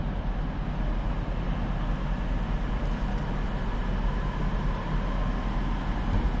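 A Class 323 electric multiple unit pulls away from a platform at Manchester Piccadilly, a steady, loud low rumble and roar of traction and wheels that holds constant throughout with no voices.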